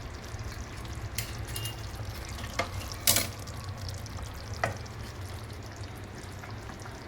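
Ghee roast chicken masala stirred in a pan, a steady low sizzle with a few sharp spatula scrapes and clicks against the metal, close and fairly quiet, with no talking.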